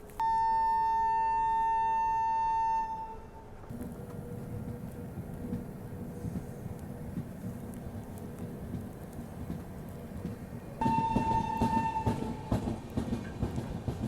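Suhaildev Express train pulling away after a long stop, opening with a steady loud horn-like tone, then low rumbling wheel and carriage noise building, and a second horn blast near the end, with no talking.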